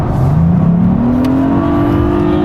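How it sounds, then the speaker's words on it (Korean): Hyundai Sonata N Line in Sport Plus mode accelerating hard at highway speed, a loud, steady engine drone from inside the cabin with pitch climbing smoothly under road and wind noise. "고속주행을 한번 해볼게요."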